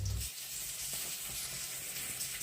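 Belyashi dough pies fry in hot oil at home, giving a soft, continuous sizzle and hiss with a few faint clicks, quiet and close with no talking.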